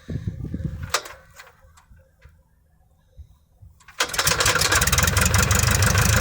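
A small propeller airplane's engine starting on the tarmac at the Morristown, Tennessee airport: a few quiet clicks and clatters, then the engine catches with a sudden loud, steady roar of the spinning propeller.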